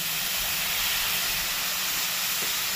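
A paste of onion, ginger, garlic and green chilli sizzles in hot oil, a loud, continuous broadband hiss that stays even throughout, with no talking.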